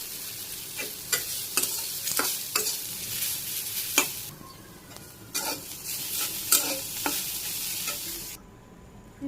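Leafy greens stir-frying in a pan with a steady broad sizzle, broken by repeated scraping strokes of a spatula at an irregular rhythm, close and fairly loud, ending in near silence.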